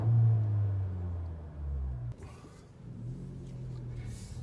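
A 2020 Honda Civic Si Coupe pulls away, its engine rumbling low and steady, then revving up after a brief shift-like dip, close and continuous with no talking.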